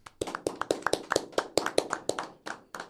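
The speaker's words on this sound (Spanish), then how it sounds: "Le vamos a dar con un fuerte aplauso la bienvenida al licenciado Elías Aguilar Bernardino." Brief applause from an audience welcoming a speaker, a modest group clapping in distinct, uneven claps that fall off toward the end, with no talk over it.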